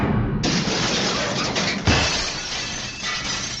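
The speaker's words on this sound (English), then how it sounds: "A shower of broken glass rained down on his roof, and something heavy landed on the ground nearby." Glass shattering in a loud, close crash that sprays into a sustained rain of breaking fragments, with a second smash partway through.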